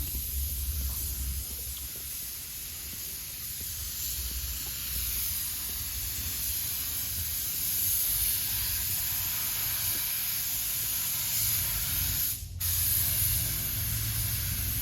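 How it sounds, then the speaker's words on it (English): Steady, continuous hiss of a sprayer applying sealer on a Chevrolet Monte Carlo under restoration, running nearly unbroken throughout with a brief dip near the end, fairly close. "You spraying that same sealer?"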